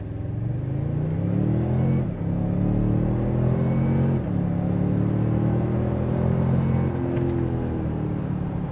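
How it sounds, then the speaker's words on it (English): A 2025 Toyota Sequoia 1794 Edition SUV accelerates from a stop at full throttle on a hot 94-degree day, its engine surging in a loud, steady rising roar with two brief dips, probably gear shifts, and no talking. "let's stop here at 0 and floor it"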